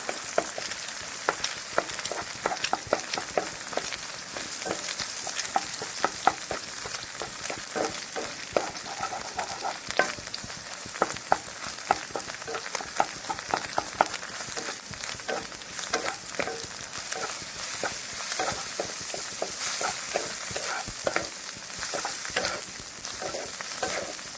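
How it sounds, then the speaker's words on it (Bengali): Egg frying in a pan, a dense continuous close sizzle and crackle with frequent stirring scrapes and spatula taps throughout, no talking. "ডিমটা আমি কিছুক্ষণ ভেজে নেবো"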